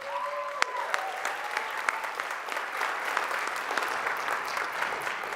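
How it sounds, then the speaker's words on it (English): Audience applause fills a high school spring band concert hall, a steady wash of clapping with a few sharp individual claps near the start, moderately loud and continuous with no talk over it. "So give them one more round of applause."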